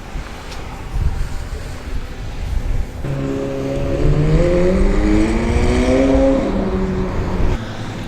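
Rear-wheel drive race cars on a wet track at Oulton Park during spring testing in the rain, one engine rising and sweeping past with a climbing, droning whine over steady wind and rain noise.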